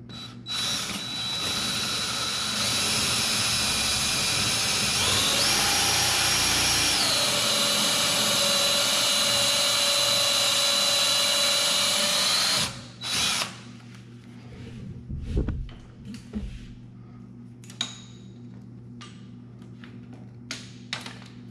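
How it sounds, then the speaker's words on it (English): A power drill bores holes in a Lexan forestry windshield for a John Deere 35G excavator, a loud continuous high whine for about twelve seconds that shifts pitch midway, then stops, followed by faint handling clatter. "I think what I'll do is drill them from the front and then come back and drill some from the back."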